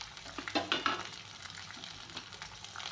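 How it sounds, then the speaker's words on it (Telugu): Ground onion paste fries in a pan with dried red chillies and green chilli paste, a close sizzle with stirring scrapes, loudest early on. "మిక్సీ సారు వేసుకున్న ఉల్లిపాయ పేస్టు ఎర్రగా వచ్చేంత వరకు ఫ్రై చేసుకోవాలి"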